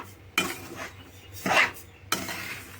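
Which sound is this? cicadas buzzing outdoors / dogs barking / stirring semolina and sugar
stirring semolina and sugar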